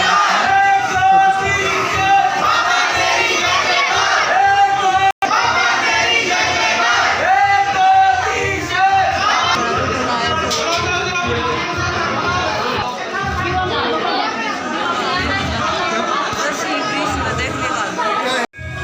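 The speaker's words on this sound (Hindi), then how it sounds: "इतनी भीड़ थी भाई साहब, हद से ज़्यादा भीड़ थी।" A large, dense crowd at a temple fair, a loud, constant babble of many voices with occasional louder shouts, continuous throughout.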